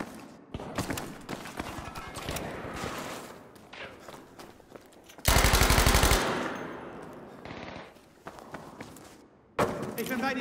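A Tommy gun M1928A1 fires in a video game's hardcore team deathmatch on Operation Underground, with rapid automatic bursts, one especially loud sustained burst midway, and shorter bursts around it, mixed with faint game voices.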